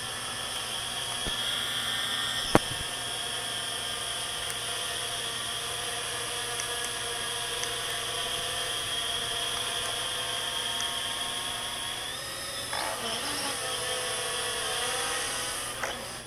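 A Walkera X350 Pro quadcopter running an APM 2.6 holds its position in the air, giving a steady, unbroken high-pitched whine of spinning motors and props from close by, with a brief wavering shift in pitch near the end.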